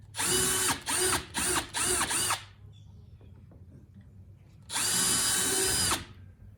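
A power drill bores pilot holes into a kayak hull to mount YakAttack accessories, with several short loud whirring bursts in quick succession, a quiet pause, then one longer steady run, close and alone.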